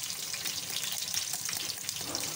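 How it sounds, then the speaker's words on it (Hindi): Water is poured into a chilli masala mix for a green chilli fry, a steady splashing, trickling wash held close and loud with no voices. "हम इसमें थोड़ा सा पानी ऐड करेंगे और इसको लिक्विड शेप में बनाएंगे"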